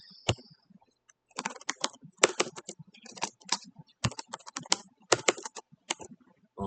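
Rapid bursts of computer keyboard typing come up close and loud, with short clusters of crisp key clicks separated by brief pauses, and no talking.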